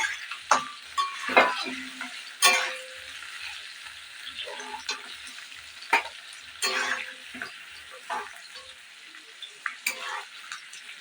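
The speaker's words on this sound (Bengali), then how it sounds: "তো দেখুন পনিরটা কিন্তু ভাজা হয়ে গেছে।" Paneer pieces fry in oil in a pan with an ongoing crackling sizzle. Scraping clinks from a spatula and several sharp bursts punctuate it, close and with no voices.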